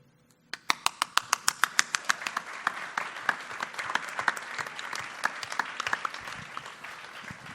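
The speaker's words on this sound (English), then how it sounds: "let's give them all a big round of applause." A chamber of commerce meeting audience breaks into applause, starting with a few sharp, distinct claps that quickly swell into a sustained, moderately loud round of clapping from a modest crowd.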